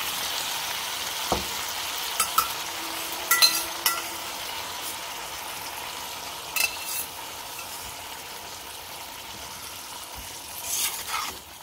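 Snake gourd poriyal with softened onions being stirred in a pan: intermittent scrapes and clacks of the spoon over a soft, steady frying hiss, with no talking.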